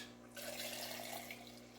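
Liquid poured out of a jar into a blender for making vegetable and fruit juice, a faint short splashing stream over a low hum.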